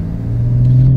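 A BMW M3 G80 Competition engine warming up gives a steady, close, low droning hum that swells slightly louder toward the end, with no voices over it.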